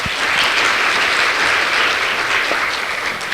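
A crowd at a small-town festival beauty pageant applauds the contestants with a full, even wash of clapping that holds steady from start to finish.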